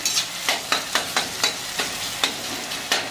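Softened tomato and onion being pressed and mashed in a pan for a Maharashtrian chickpea usal, a run of about a dozen close scraping, squishing strokes in a steady rhythm over a faint background sizzle.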